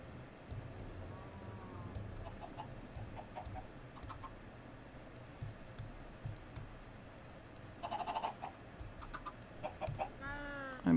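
Minecraft chickens in the Forgecraft modpack cluck in short, scattered bursts over a low game hum, with mouse and key clicks tapping throughout and a louder flurry of clucks near the end.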